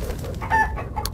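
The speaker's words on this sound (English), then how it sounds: "it appears we are in the land of chickens that are indeed the size of zombies" A giant chicken in the Minecraft: Story Mode video game gives a short cluck or squawk over a dense, loud low game-audio bed, with a brief bright click near the end.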